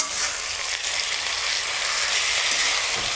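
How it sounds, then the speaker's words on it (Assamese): Goat meat tipped into hot oil for an Assamese-style mutton curry, giving a steady, loud hissing sizzle that fills the whole stretch with no voices over it. "এতিয়া মই খাচী মাংসখিনি ঢালি দিছোঁ।"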